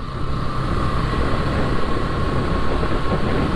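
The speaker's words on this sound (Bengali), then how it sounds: "এটাই মেট্রো, আমাদের জোকা বিবাদিবাগ মেট্রোর শেষ স্টেশন।" Loud, steady rumble of a Kolkata Metro train running on rails at Joka station, continuous and close, with a faint tonal whine and no talking.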